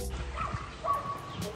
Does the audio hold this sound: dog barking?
yes